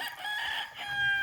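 A rooster at a gamefarm gives a short crow, heard as a brief, fairly close call over light background noise, with no talking.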